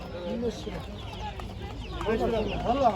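Chickens cluck and a Brahma rooster murmurs nearby at a poultry market in Ankara, with soft voices and outdoor background noise mixed in.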